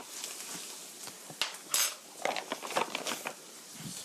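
A spoon or spatula scrapes and clinks against a pan as flour is stir-fried for a cream sauce, with irregular metallic taps and scraping strokes, one sharper clatter near the middle, fairly close and quiet.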